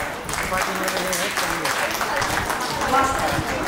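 An audience at a gender reveal event claps together in a sustained, dense round of applause, fairly loud and close, with voices talking and murmuring through it.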